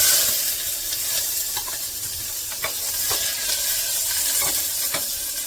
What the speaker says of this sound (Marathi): कांदा परतून घेते